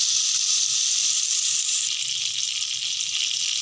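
Two tablespoons of butter melting with a tablespoon of oil in a pan, a steady bright sizzle and hiss close by, constant throughout with no talking.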